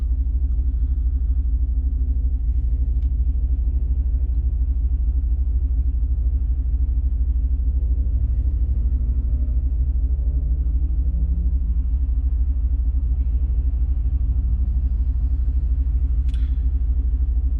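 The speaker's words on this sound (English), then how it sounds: "Unfortunately, holiday traffic is upon us" A continuous low rumble of holiday road traffic rolls on in the distance, steady and unbroken, with a few faint higher sounds drifting over it.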